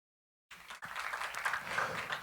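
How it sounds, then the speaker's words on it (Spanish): Applause from an audience at a telecommunications conference, beginning abruptly after half a second of silence and continuing as a steady, moderately faint wash of many hands clapping. "Los aplausos."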